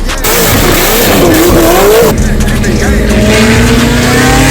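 A ProCharged 441 LSX C6 Corvette Z06 makes a loud second-gear pull on a 60–130 run. The engine note climbs steadily, dips briefly at a shift, then keeps rising under faint voices.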